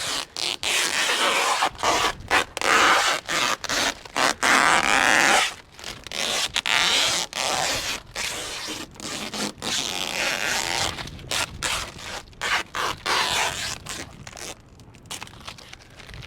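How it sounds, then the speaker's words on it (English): A vinyl wrap tape stripe is peeled off a boat hull, producing a long series of close ripping, crackling pulls in irregular bursts with short gaps between them. "pulling away that stripe as well, the tape"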